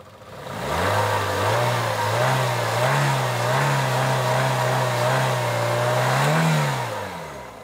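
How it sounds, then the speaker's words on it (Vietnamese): A small Chevrolet Spark engine, a last-year special edition in original stock condition, is revved repeatedly in steady, close, loud pulses, with a final higher rev near the end and no talking. "ngay sau đây em sẽ mồi ga chúng ta nghe về tiếng động cơ này"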